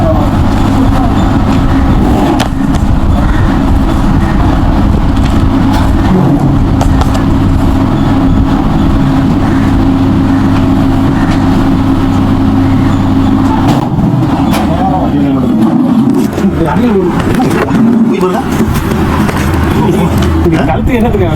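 Inside a moving vehicle, a loud, steady engine drone and road rumble run throughout, with a shift in tone partway and voices talking over the noise.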